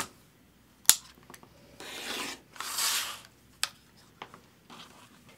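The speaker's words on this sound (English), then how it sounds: "now we're going to cut in the center from tip to tip" Fabric sliced down the center between two stitched seams with scissors or a cutter: a sharp click, then two scraping rasps of blade through cloth, and scattered snips and taps, close and alone.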